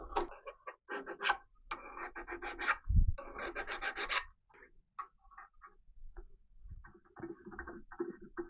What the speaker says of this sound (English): I'm just using this wire to remove the swarf and the tapping compound